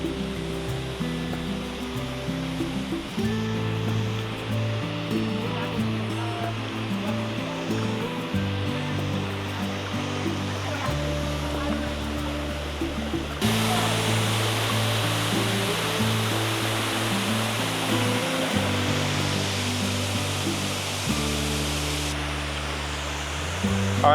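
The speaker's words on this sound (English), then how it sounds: "This is the highlight of the hike here. Behold, Cascade Falls." Cascade Falls waterfall gives a steady, full rushing roar of falling water on a hike, which swells louder partway through. Low, stepped musical tones play underneath the whole time.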